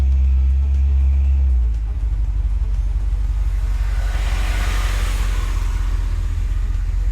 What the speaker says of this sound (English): Let's put it in gear and go for a ride.